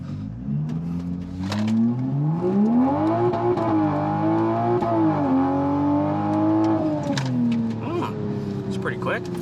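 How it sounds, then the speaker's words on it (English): A 2020 Toyota GR Supra launches at full throttle from a left-foot-brake start, its loud engine roar climbing steadily in pitch and holding near and strong throughout, with faint voices in the background. "so I am not sure exactly how to launch the Supra"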